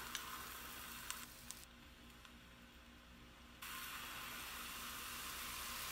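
Mushrooms sizzle in a pan with butter, oil and fresh thyme, giving a faint, steady frying hiss with a few light clicks of stirring and no voices.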